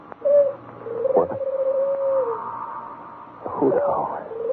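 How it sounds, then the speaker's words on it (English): A hooting owl sound effect from an old-time radio horror drama: a few long, steady, hollow hoots at moderate loudness, followed near the end by a brief voice-like, wavering call. "A hoot owl."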